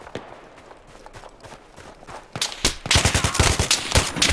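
Gunfire in the first-person shooter Battlefield 3, starting with sparse scattered shots and building into loud, rapid automatic bursts that dominate the second half.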